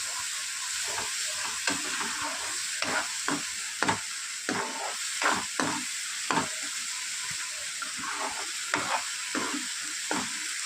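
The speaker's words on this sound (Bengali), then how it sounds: "তো আর একটু কষিয়ে নিয়ে কষিয়ে নিয়ে আর মশলা থেকে খুব ভালো করে তেল ছেড়ে গিয়েছে" Masala for egg curry frying in a pan, a constant loud sizzle with spoon scrapes and stirring strokes recurring every second or so, close up.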